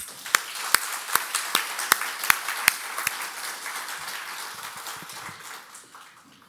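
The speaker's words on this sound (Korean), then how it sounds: "다시 한번 뜨겁게 박수" A church congregation applauds the choir and ensemble, starting with several sharp, evenly spaced claps that give way to a softer, sustained patter of applause fading toward the end.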